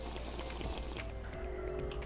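A water breathing potion being drunk in Minecraft, heard as a short, steady gulping and liquid pour that runs continuously and fairly close for about two seconds, with no talk.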